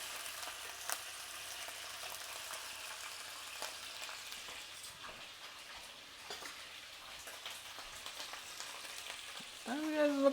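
Stew meat browning in a frying pan, with a steady close sizzle and occasional small pops and scrapes throughout.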